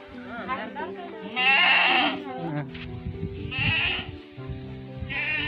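Goats bleat loudly in a few quavering calls close by in a small tribal village among hills, mixed with people talking in the background.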